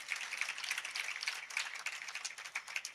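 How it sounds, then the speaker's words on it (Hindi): An audience clapping at a religious discourse on the Shruta Panchami story, steady soft applause continuing throughout at a fairly low level. "बजाओ अच्छे ताली, धीमे क्यों बजाते हैं?"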